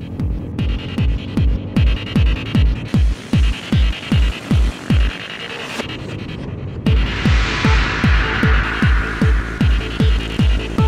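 Rally motorbikes revving at the start of a desert race in the Tuareg Rallye 2010, a loud, steady rhythmic throbbing of engines pulsing in close, regular bursts with a brief lull midway before swelling again.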